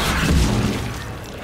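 A shotgun blast in Mass Effect 3 multiplayer: one heavy, booming low-end shot with a short rumbling tail that fades over about a second, standing alone without talk.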